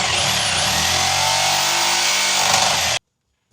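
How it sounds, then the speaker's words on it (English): Jigsaw cutting through fiberglass on a police Whaler boat, a loud, steady buzzing rasp held for about three seconds before cutting off suddenly, followed by a brief faint knock. "I'm going to take my jigsaw."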